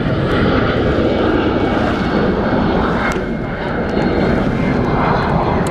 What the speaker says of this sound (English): I think we are seeing Emirates arriving soon.